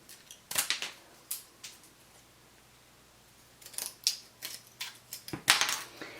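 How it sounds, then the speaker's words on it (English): Several crisp snipping and crunching cuts from heavy-duty scissors cutting through wooden popsicle sticks, a cluster early on and another burst near the end, separated by a quiet pause. "you need a pair of heavy-duty scissors. And we're just going to cut those"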